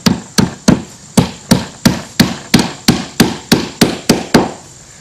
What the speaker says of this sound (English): So I'm going to start to nail this down.